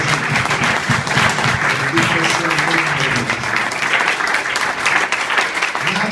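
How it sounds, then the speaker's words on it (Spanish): Loud, sustained applause from a church congregation during a Spanish-language service, steady dense clapping with faint voices underneath. "Un aplauso fuerte para el Señor."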